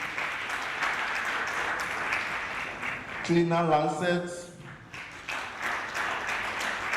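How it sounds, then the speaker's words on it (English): Conference attendees clap for sponsors at an African One Health and biosecurity meeting. A continuous wash of moderate applause carries on while a man at the microphone reads out a sponsor's name. "A round of applause, please."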